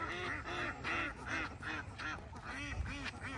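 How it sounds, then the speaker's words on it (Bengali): A flock of ducks on a village duck farm quacks in a rapid, repeated chorus of nasal calls, close and continuous, with no talking over it. "এই দিকে হাঁসের কামার আছে"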